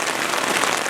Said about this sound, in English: it's raining almost all night long, and it's only getting stronger